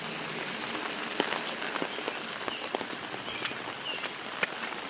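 Steady rain pours onto a flooded road strewn with washed-out debris, a dense close hiss broken by scattered sharp taps of individual drops.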